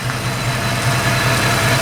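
A 5.0 fuel-injected V8 idles steadily in a 1965 Vintage Burgundy Mustang coupe restomod, a loud, even low rumble with no talking.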